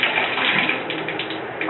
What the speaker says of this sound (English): And this is one of the better showers that I've had during my mission.